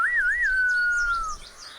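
A person whistles in imitation of a birdcall: a single bright whistled note that warbles twice, then holds steady and fades out after about a second, close and fairly clear with faint background noise.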